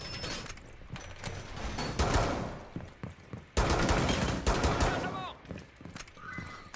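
Pistol shots in a multiplayer shooter game, repeated sharp cracks in quick bursts among other game noise and a talking voice.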